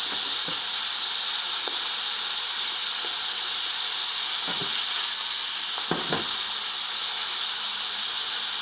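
Deer heart searing in a hot oiled pan gives a steady, close sizzle and hiss that holds evenly throughout, with a few brief sharper crackles and no voices.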